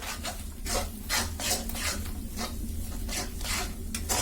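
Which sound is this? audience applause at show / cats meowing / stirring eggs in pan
stirring eggs in pan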